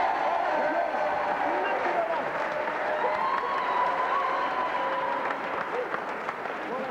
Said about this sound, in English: Round of applause, come on.